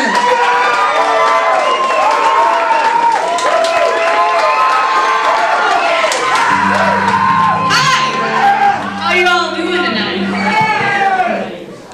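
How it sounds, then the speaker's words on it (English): A club crowd on Cape Cod claps, whoops and shouts for a band taking the stage, loud dense cheering with an announcer's voice over it and a bass-heavy note entering partway through. "could we have a big round of applause for our third band tonight"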